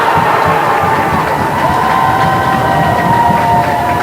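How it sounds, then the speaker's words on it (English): Loud, continuous crowd roar and cheering fills a boys' high school volleyball arena right after a big point, with whoops and shouts layered through the steady noise. "I mean, the crowd just erupted here."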